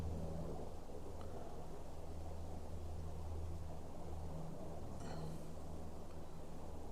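A Black Hawk military helicopter flying near Fort Indiantown Gap, heard as a steady low rotor drone that fills the whole stretch under gusty wind, with no talk.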